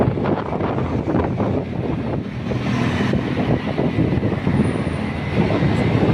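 A train rumbling past on an elevated line in Metro Manila, heard as a continuous broad roar with wind buffeting the microphone, fairly loud and steady throughout.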